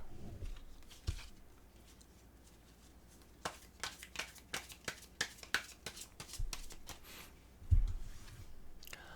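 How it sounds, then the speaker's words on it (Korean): Tarot cards being shuffled by hand, a quick run of crisp riffling snaps and clicks in the middle after a quieter start, close and fairly soft, with a brief thump near the end. "카드 한번 섞을게요"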